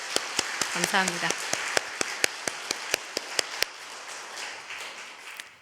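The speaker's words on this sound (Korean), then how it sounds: "박수 드리겠습니다." A church congregation claps for a choir in steady, even unison claps about four a second, with a brief spoken word near the start; the clapping stops after a few seconds.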